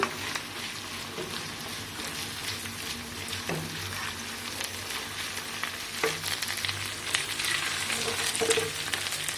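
Onions frying over a high gas flame, a steady loud sizzle with occasional scraping stir strokes, close and alone without talking.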